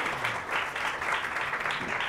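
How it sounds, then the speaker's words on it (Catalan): Studio audience applause on a Catalan TV spelling game show after a correctly spelled word; soft, even clapping, fairly quiet and sustained briefly. "un aplaudiment, eh? Aplaudim, aplaudim, aplaudim."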